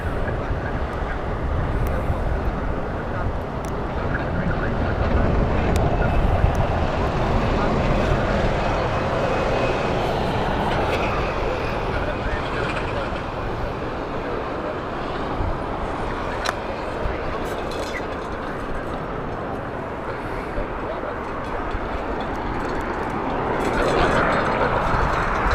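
British Airways Airbus A350 airliner at Heathrow Airport, a loud sustained jet engine roar that rises and holds for the whole stretch, with a person talking over it.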